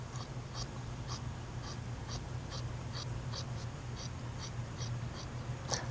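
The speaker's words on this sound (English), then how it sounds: "Then we'll take our scissors and cut this out here." Scissors snip through vinyl for a 74 Chevy Caprice lower door panel, a faint series of regular small cutting clicks over a low background hum.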